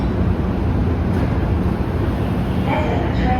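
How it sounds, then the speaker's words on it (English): A PATH PA5 subway train built by Kawasaki rumbles steadily at close range, a continuous loud rolling drone with some brief higher squeals near the end. "These current trains with the blue fronts are known as the PA5."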